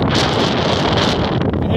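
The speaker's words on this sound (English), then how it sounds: "Anyway, it's windy." Strong wind buffets the microphone outdoors beside a house door with a loud, continuous rushing roar, no voices present.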